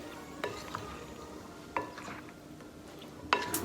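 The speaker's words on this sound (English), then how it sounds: "Give that a nice stir." Utensil stirring a bowl of whole wheat pasta salad dressed with lemon juice, giving a few soft scraping clicks spread across the moment, close and fairly quiet, with no voices.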